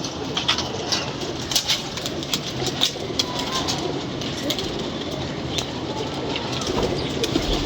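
Pigeons from a newly paired breeding set-up coo in soft, repeated calls close to the microphone over a steady background hiss, with people talking nearby.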